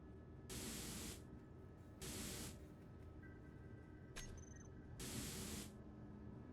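Spray painting blocks in the Space Engineers video game gives three separate bursts of hissing spray, each lasting under a second, with short pauses between them over a low hum, plus a brief electronic blip partway through; no talking.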